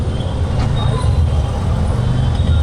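Busy city road traffic in Pune rumbles around a moving auto rickshaw, with a loud, constant low engine and road drone and passing buses and trucks, and muffled talk underneath.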